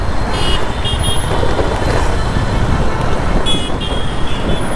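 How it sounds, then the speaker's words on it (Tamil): Dense evening road traffic roars steadily on a Tamil city street around 9:30 at night, car and truck engines rumbling close by with a few horn toots cutting through, continuous and loud with no pauses. "ஆனால் டிராஃபிக் மட்டும் பாருங்களேன், குறையல"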